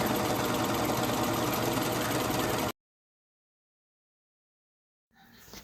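A sewing machine top stitches fabric in a steady, loud mechanical hum for under three seconds. It cuts to silence, then faint noise returns near the end.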